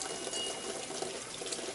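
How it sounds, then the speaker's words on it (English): Water poured into a pot of lentil soup, a steady close gushing stream running unbroken for the whole stretch with no talk over it. "I'm going to add a little bit more water to that"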